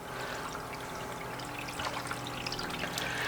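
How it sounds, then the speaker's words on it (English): Water pours and trickles steadily through a gold sluice running Kenai Peninsula pay dirt, a continuous moderate wash with a steady pump-like hum beneath and small splashes, no talk. "We're going to fire up this sluice."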